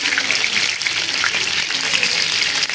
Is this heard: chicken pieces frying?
yes